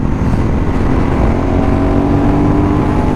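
A Ducati 916 SPS motorcycle's engine drones loud and steady while the bike is ridden, with wind rush mixed in and no voices.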